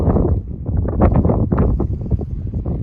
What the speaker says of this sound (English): So we're gonna get out of this wind, take us a break, then move on